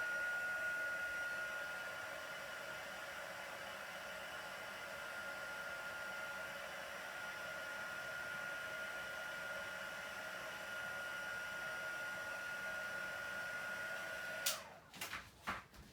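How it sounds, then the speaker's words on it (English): Heat embossing tool blowing hot air over a stamped card, a steady close whooshing hum that runs unbroken for about fifteen seconds before cutting off, followed by a few small clicks and knocks. "I'm going to go over and now emboss this."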